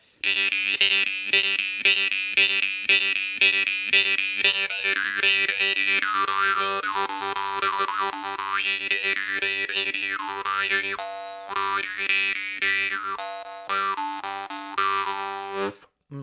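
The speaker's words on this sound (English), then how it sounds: "this is probably one of the highest pitch harps I've ever played" Bright, twangy temir komuz jaw harp, very high-pitched, played in quick rhythmic plucks, with a steady drone under shifting high overtones, close and fairly loud, alone.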